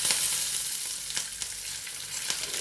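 Curry leaves crackle and sizzle in hot oil with ginger and garlic for a Kerala-style prawn curry, a steady close hiss broken by sharp pops, with no voices.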